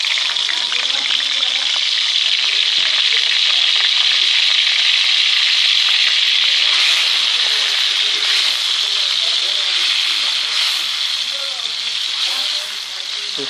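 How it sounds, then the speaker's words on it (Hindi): Crushed ginger and garlic fry in hot oil in a kadai for a mutton karahi, producing a loud, continuous hissing sizzle that stays dense and steady throughout, close up with no talking. "अब ऑयल हमारा गर्म हो गया, इसमें ऐड करेंगे अदरक लहसुन कूटा हुआ"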